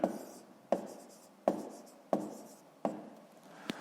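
Pen strokes on paper during a fifth-grade maths exercise, a short series of scratchy writing marks with sharp taps at the start of each stroke, fairly quiet and close, with no talking.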